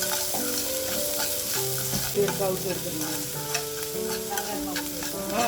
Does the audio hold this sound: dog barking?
no